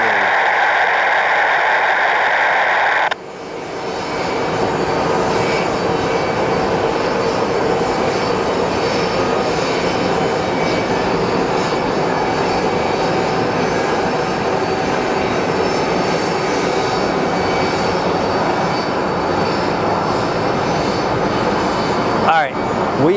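Airliners at Phoenix Sky Harbor International Airport, where a steady, loud jet engine roar fills the air throughout, with a sharper whine rising early on and continuous broadband rumble from taxiing or departing aircraft.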